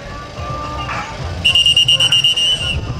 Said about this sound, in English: that's our warning whistle